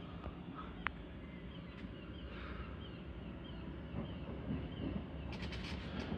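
A train at Harrow and Wealdstone or Watford Junction station, a faint steady rumble with light clatter and a brief chirp, heard from a distance under general station ambience.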